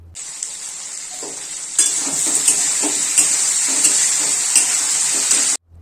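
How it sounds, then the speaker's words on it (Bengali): Pointed gourd pieces sizzle steadily in hot oil in a pan, a continuous bright frying hiss with intermittent stirring scrapes and clinks, loud and close throughout. "এবার পটলগুলোকে ভেজে নিতে হবে।"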